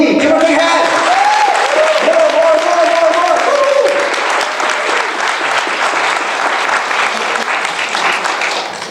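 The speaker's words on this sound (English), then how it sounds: "Give her a big hand." An audience breaks into loud, sustained applause at a business opportunity presentation, with a burst of cheering and whistles over the clapping early on before it settles into steady handclaps.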